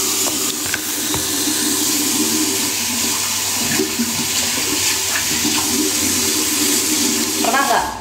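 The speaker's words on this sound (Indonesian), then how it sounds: "Apakah ini tanda kalau aku ini cuci muka dulu guys?" Steady rush of water pours from a tap into a sink for face washing, a continuous hiss close by with a brief gurgle near the end.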